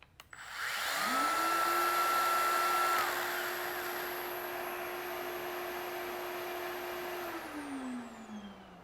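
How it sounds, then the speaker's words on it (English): A Makita vacuum kicks on through Bluetooth pairing with a drywall sander, its motor spinning up quickly into a loud steady whine, easing slightly after a few seconds and then running down as it switches off. "All we have to do to turn our vacuum on"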